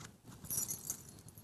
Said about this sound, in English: I do, however, have my car keys.